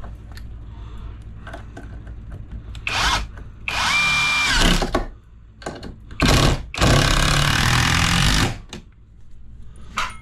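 A power drill drives screws into wood framing for a vanity mirror cabinet and niche, heard as several loud, close whirring bursts of varying length separated by short quiet pauses.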